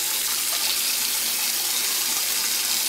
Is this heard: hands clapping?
no